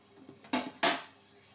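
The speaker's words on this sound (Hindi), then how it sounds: "इसको मैं एक बार और ढक दूंगी।" A metal lid is set onto a pan of pointed gourd on a gas stove, two quick clattering knocks in quick succession against a quiet background.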